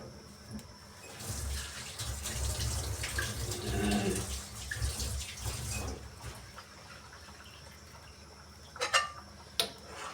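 Water runs from a tap into a sink, a soft steady splashing flow for several seconds, followed by a few light clinks of dishes.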